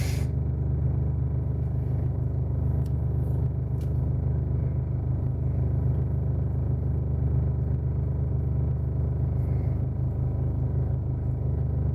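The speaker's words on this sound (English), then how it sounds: "you can hear my car. That's the power steering." A car's power steering pump produces a continuous low rumbling drone with a faint steady whine above it, unchanging and close throughout, with no talking.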